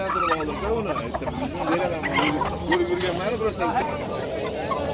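Chickens and roosters at a poultry market cluck and call steadily up close, mixed with crowd babble and a nearby voice speaking.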